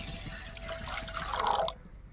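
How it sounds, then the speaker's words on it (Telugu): Water is poured over moong dal lentils to wash them in a kitchen: a brief, soft splashing trickle that swells for about a second and a half, then stops abruptly, leaving quiet room tone. "ఇప్పుడు నీళ్ళు పోసి నీట్గా కడిగి పెట్టుకుంటా."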